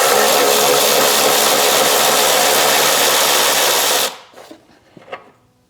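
A power tool or ratchet drives a 1/2 inch socket to remove the battery hold-down nut on a 2015-2022 V6 Chevrolet Colorado or GMC Canyon. It runs as a loud, steady whir for about four seconds, then stops, followed by a few faint clicks.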